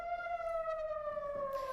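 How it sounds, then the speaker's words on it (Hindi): Air raid siren wailing in Israel during an Iranian missile attack, a single sustained tone slowly falling in pitch, heard alone at moderate level. "इजराइल में सायरन बजने लगे"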